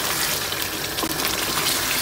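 Water pours steadily into a pan of Punjabi chicken gravy, a loud, continuous rushing gush lasting about two seconds with no talking over it.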